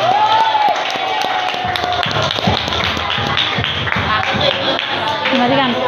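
A class applauds its winning group with a burst of hand claps and taps, sustained through the moment while a voice and murmurs sound over it.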